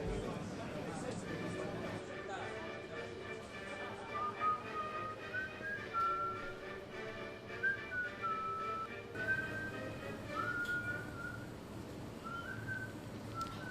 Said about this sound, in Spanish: Oye, ¿podrías dejar de silbar un poco?